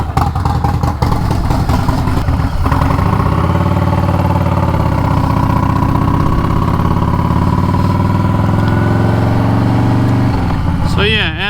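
A 2022 Harley-Davidson Low Rider ST engine runs loud and close with a steady low throb, rising slightly in pitch partway through, while someone talks over it.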